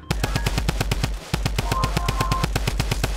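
Rapid automatic weapon fire in Fortnite, two steady bursts of evenly spaced loud shots separated by a brief pause, close and dry with no talk.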